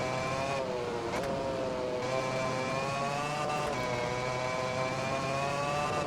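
In the Valentino Rossi The Game racing game, a rival motorcycle's engine whines steadily right behind during a race. It gives a continuous, high, buzzing drone with slight pitch shifts, joined by a lower engine hum and a few brief clicks.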